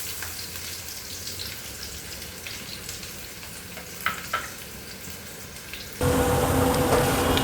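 Onion hitting hot oil with mustard seeds and cumin for aloo paratha filling, a steady close sizzle with a couple of sharp pops, then a much louder, fuller hiss as the onion goes in near the end.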